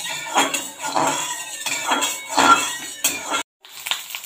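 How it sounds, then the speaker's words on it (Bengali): A metal wok set down on a lit gas stove in a home kitchen, giving several close clanks and scrapes of cookware, with one sharp knock near the end. "এবার গ্যাসটা ধরিয়ে এবারে কড়াটা বসিয়ে দিলাম।"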